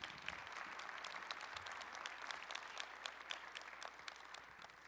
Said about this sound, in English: Can we get some applause for my girls?